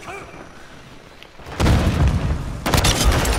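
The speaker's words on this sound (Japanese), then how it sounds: "ブルーチャージで爆発した" A breach charge detonates in Call of Duty: Modern Warfare 2, a sudden loud booming blast after a quiet start, followed by a second burst of explosive noise about a second later.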